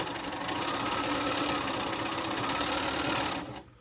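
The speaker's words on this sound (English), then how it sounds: "So I'm going to sew a 1/4 inch seam" A sewing machine runs steadily, stitching a quarter-inch seam through chain-pieced quilt fabric. The motor whirs loud and continuous for about three and a half seconds, then cuts off.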